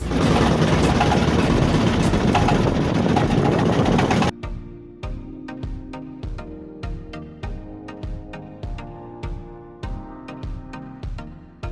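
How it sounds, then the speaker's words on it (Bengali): A river boat's engine on a tour near Jaflong, Sylhet, comes on after a stretch of loud broadband noise and then settles into a steady, rhythmic chugging, loud and close. "আমরা ইঞ্জিনের শব্দ শুরু হয়ে যাবে"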